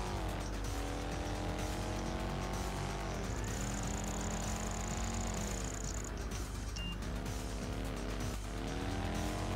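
Motorbike engine in Project Gotham Racing 4 roars like a muscle supercar, a steady loud drone with rising and falling pitch as it revs and shifts through gears, no talk.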